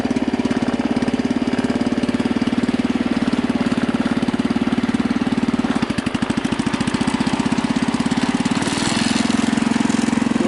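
Loud, continuous rumble of a Husky 600 tractor engine idling close by, with a steady throbbing rhythm and a brief dip partway through.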